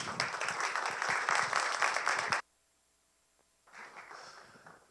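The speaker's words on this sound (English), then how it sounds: "Please give him a round of applause." A conference audience claps for the institute president taking the stage, a dense burst of applause for about two seconds that cuts off into near silence, then a softer second round of clapping.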